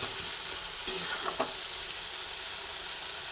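Spice paste for chicken curry stirred in a pan, a steady close sizzle of frying with a couple of brief spoon scrapes, no voices.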